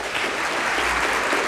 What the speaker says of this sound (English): Yes, please give a round of applause,